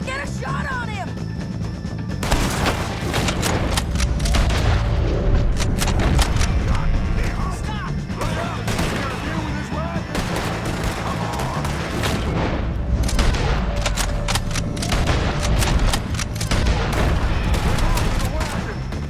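Gunfire in a Western video game, with dense overlapping shots and booms that keep up loud and continuous throughout, while voices shout over the shooting.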